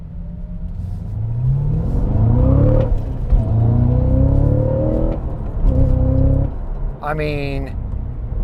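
A Cadillac CT5-V Blackwing's engine pulls hard through a turn, its rising, rumbling tones climbing and then dropping in a couple of surges, close and loud, with someone talking briefly near the end.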